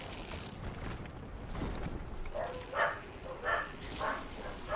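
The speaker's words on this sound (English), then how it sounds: "And my stupid dogs are off on me again," Several pet dogs bark at nothing in the distance, muffled yips and barks coming in irregular bursts over a steady background hiss.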